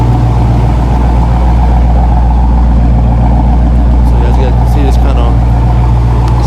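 A Dodge Scatpack 392 V8 with a muffler delete, still running factory headers, cats and resonators, idles with a steady deep rumble close by, alongside a few faint higher sounds late on.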